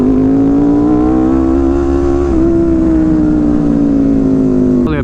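A motorcycle with an extremely loud aftermarket exhaust holds a high rev, producing a close, steady, droning roar that rises slightly in pitch and drops off sharply at the end.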